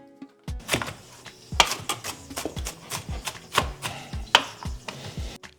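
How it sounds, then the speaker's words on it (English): A knife chopping scallions and a piece of onion on a cutting board, sharp irregular thunks in quick uneven bursts, close and crisp, with no talking. "So we're gonna chop up a bunch of scallion."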